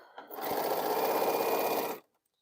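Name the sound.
sewing machine stitching fabric pieces together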